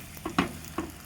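Sweet sticky rice biko being stirred as it fries in oil, giving a few soft scraping strokes with light sizzle underneath, close and moderately quiet, with no talking.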